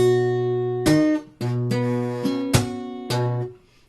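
Guitar plays measure 17 of a song: about five sustained plucked notes with sharp attacks, the start of a descending lick, close and clear with no voices.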